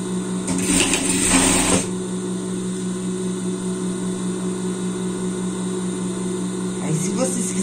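A sewing machine sews a seam straight across a boy's children's shorts, a steady motor hum running nearby with a louder, rougher burst of stitching early on and another short one near the end.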